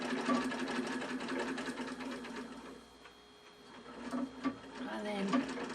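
A vintage treadle sewing machine, pumped by foot, runs in a fast rhythmic clatter that slows and nearly stops midway, then picks up again, close by with a voice speaking over it.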